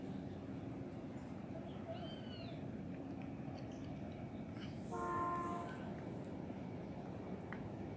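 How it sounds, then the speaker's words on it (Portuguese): A train passes in the distance near a backyard by a river in Brazil, a faint rumble and brief horn-like tones rising midway over constant outdoor background noise, with faint speech-like sounds. "Vocês acabaram de ouvir o trem, que é um som característico daqui."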